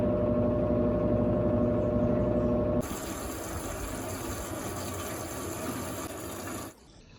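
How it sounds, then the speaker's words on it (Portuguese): An Electrolux Silent Control 16 kg washing machine spins continuously during an intermediate rinse, first a steady loud whirring drone with pump-like water noise, then a broader rushing hum that cuts off near the end. "Essa é a centrifugação contínua do enxágue intermediário."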